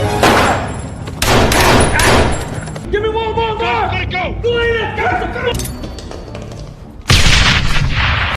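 Gunfire from a film shootout between terrorists and a sniper team, loud dense bursts of shots up close, broken by a stretch of shouting voices before another heavy volley.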